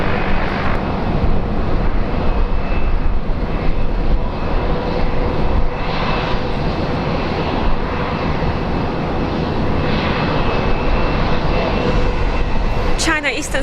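A jet airliner takes off at Brisbane International Airport from runway 19 right, a loud steady broadband engine roar sustained throughout, heard from nearby with a faint tonal whine riding on top.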